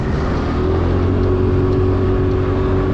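Honda Dio 110 JF31 fuel-injected scooter accelerating toward top speed, a loud continuous engine drone with steady tonal whine and wind rush, heard close without any talking.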